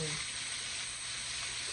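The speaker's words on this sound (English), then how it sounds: "So I know you guys hear that frying." Steady, even sizzling of cabbage frying in a pan, a continuous hiss with no breaks, heard up close.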